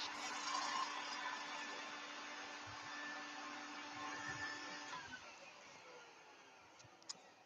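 A vacuum cleaner in a woodturning shop hums steadily at low level with a high whine, then winds down and fades, with a faint click near the end.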